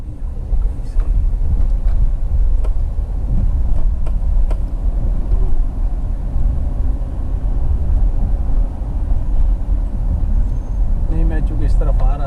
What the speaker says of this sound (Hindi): क्योंकि ट्रैफिक काफ़ी ज़्यादा है।